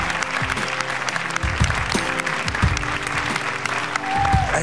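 Studio audience applauding a singing group on the X-Factor Armenia talent show, steady dense clapping filling the room throughout with a few louder bursts and low thumps underneath.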